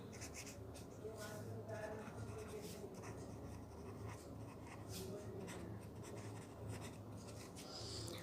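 Chalk or marker scratches out a math formula on a board in short, faint strokes, partly under a low background hum and a speaking voice.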